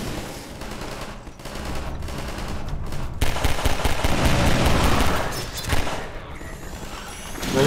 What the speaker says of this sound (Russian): Кто там стреляет по мне?